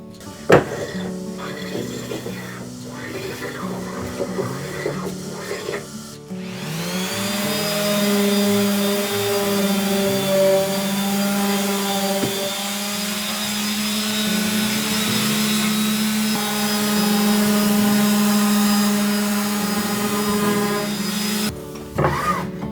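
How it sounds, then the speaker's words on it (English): A hand plane shaves along the side of a hard ash plank in long continuous strokes, a close, steady hissing whir lasting many seconds, with quieter knocking and handling sounds before it. "I plane it at the side. The ash is hard, but the hand plane works well."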